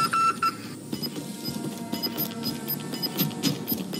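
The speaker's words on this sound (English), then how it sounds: "It beeped that time. That was weird." Short electronic beeps in a multiplayer video game, repeating at intervals over a steady bed of game noise and faint clatter, with no talking.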